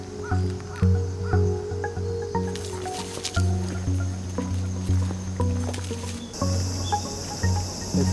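A crow caws repeatedly outdoors in a hot, humid jungle-like setting near water, several harsh calls spaced across the stretch, fairly close and loud over a background of insect or bird trilling.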